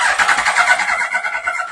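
A Yamaha R1 sport motorcycle engine cranks over on the starter while trying to fire, a loud, close, rapid pulsing whir held steadily throughout.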